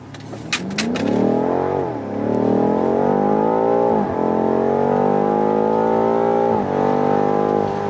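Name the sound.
BMW M5 2019 accelerating at full throttle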